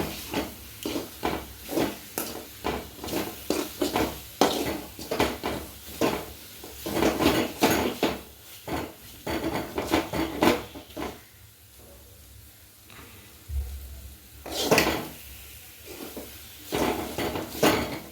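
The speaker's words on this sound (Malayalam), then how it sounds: "ചട്ടിയിൽ പിടിക്കാൻ പറ്റാത്തതുകൊണ്ടാണ് ചട്ടിക്ക് ഇത്ര സൗണ്ട്" A clay cooking pot of mutton curry rattles and clanks as it is stirred, with irregular bursts of knocking and scraping close by, pausing briefly before picking up again.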